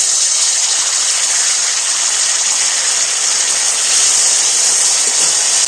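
Ginger, garlic and a little oil sizzle in a pan, giving a steady, loud, bright hiss with no break from start to finish and no voices over it.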